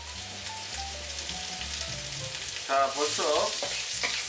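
Garlic frying in a hot pan in a home kitchen, a steady sizzle with a few stirring scrapes, close and fairly loud, with brief talk near the end.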